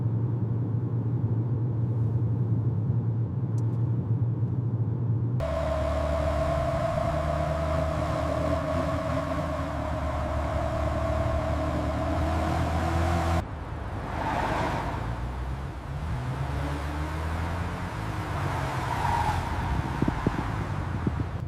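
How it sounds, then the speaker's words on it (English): Steady engine rumble and road hum of a car driving through a city in a video game, a continuous low drone that shifts in character twice, with no talking. "The city speeds past outside the car window."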